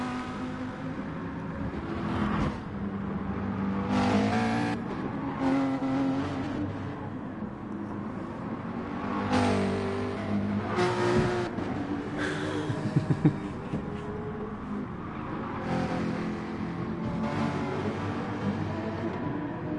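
Race cars run in GT Sport at Interlagos, a GTR and a Lamborghini GT300 car among them, with steady engine drone and shifting revs that rise and fall over the whole stretch.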